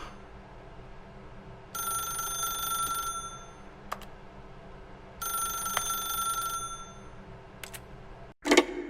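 A telephone rings twice in The Stanley Parable: Ultra Deluxe, each long ring a steady bright bell tone with a pause between, set in a quiet room with faint ticking and no talk.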